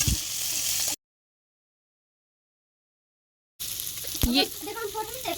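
Onions frying in a pan for a dal tadka, a steady hiss of sizzling oil that cuts out into silence midway, then returns with stirring clatter and a brief spoken word over the sizzle.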